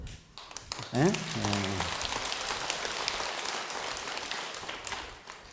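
Audience applause breaks out during a Buddhist dharma talk at Jogyesa temple, a steady wash of clapping that swells after a brief voiced sound and continues evenly for several seconds, with a faint murmur of talk underneath.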